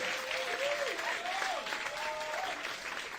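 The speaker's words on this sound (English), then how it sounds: "Give them a round of applause." Crowd applause for a house band at a livestreamed show, a continuous clapping wash with some voices and whistling tones mixed in, steady and moderately loud.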